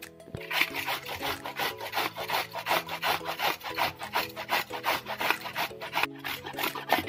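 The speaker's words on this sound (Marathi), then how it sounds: "आपण आता ही कैरी छान किसून घेऊ।" Raw mango grated by hand on a grater, a close, rapid series of rough rasping strokes in an even back-and-forth rhythm with a brief pause as the fruit is turned.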